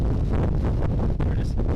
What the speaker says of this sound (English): Like it is windy as fuck.